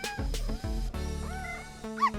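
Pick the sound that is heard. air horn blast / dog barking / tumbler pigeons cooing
dog barking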